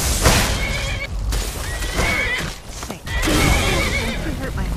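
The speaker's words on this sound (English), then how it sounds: "Don't you hurt my horse." A horse in the video game Skyrim neighs and whinnies loudly in repeated calls with hoof clip-clops, mixed with combat game sounds.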